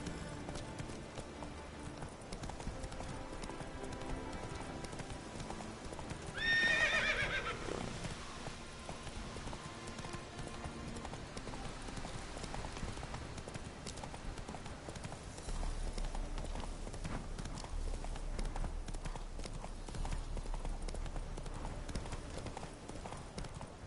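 Horse hooves from The Witcher 3 clip-clop in a steady trot, with a brief loud neigh partway through and continuous ambient game sound behind it.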